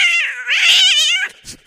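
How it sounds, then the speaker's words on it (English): Cats screech outdoors at night, a loud, close, drawn-out wailing yowl that rises and falls in pitch before a brief quieter cry. "Cats screeched outside"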